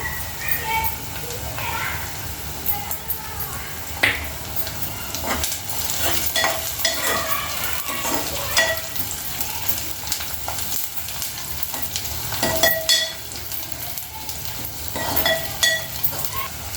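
Chana dal and garlic frying in a pan, giving a steady close sizzle with occasional stirring scrapes of a utensil, while someone talks over it.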